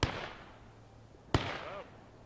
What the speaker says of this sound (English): Random shots ring out